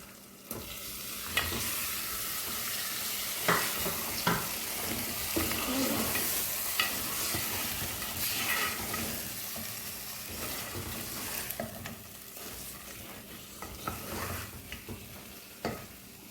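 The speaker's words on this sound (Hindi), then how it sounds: "at the same time we will add this mutton क्योंकि मसाले के साथ साथ गोश्त भी भुना जाएगा" Mutton sizzles steadily in hot oil with masala for Hyderabadi mutton khorma, while a spoon scrapes and stirs through the pan in irregular knocks and shuffles, close and continuous.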